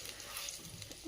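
Surmai fish fries in a pan with a soft, faint, continuous sizzle and a few light crackles, with no voices.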